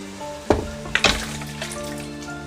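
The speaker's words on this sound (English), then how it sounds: "So I'm just going to add the beef now." Already-cooked beef is dropped into a biryani pot, a few soft thuds and sizzles as the pieces land, close and fairly quiet over a low steady background.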